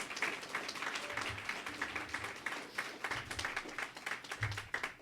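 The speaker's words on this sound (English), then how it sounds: "And can we all just give Eileen a really great round of applause?" A crowd applauds at an oral history launch event, a soft, steady patter of many hands clapping, fairly faint and distant, with no speech.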